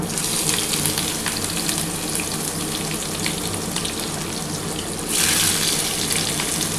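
Sliced onion sizzles in hot oil left over from frying small tangra fish, giving a continuous, close, even crackle that swells louder and brighter toward the end.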